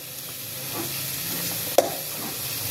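Ginger and onion sautéing in a pan give a soft, steady sizzle with gentle stirring, quiet and close, broken once by a sharp utensil tap.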